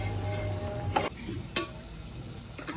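Turmeric-and-salt-seasoned food fries and simmers in a pan at home for pulao and chicken curry, giving a quiet steady sizzle with a few sharp stirring clatters and scrapes, no talking.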